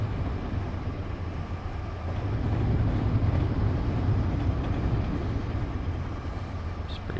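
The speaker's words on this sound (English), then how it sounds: "It's pretty loud when you go through those switches" A train in Train Simulator 2022 rolls over track switches, a steady low rumble that swells louder midway and then eases slightly, with no talking.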